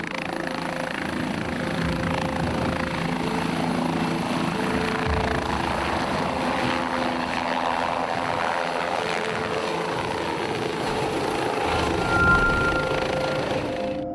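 A helicopter drones overhead in a steady, continuous rotor and engine roar that holds for the whole stretch without pause, loud and near.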